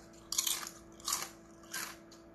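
Three sharp, crisp bites crunch into Korean crisps at close range, each a bright crackling burst followed by brief chewing, spaced about a second apart in an otherwise quiet room.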